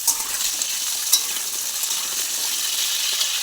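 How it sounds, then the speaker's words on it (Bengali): Potato pieces frying in hot white oil, a dense, even sizzle with occasional stirring scrapes and small pops, close and loud, no voices. "আলুগুলো আমি খুব ভালোভাবে ভেজে নেব।"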